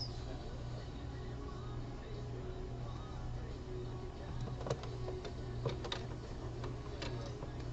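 A home sewing machine stitches a body panel of a boxer brief in steady, continuous mechanical chatter with a low motor hum, a few sharper ticks rising near the end.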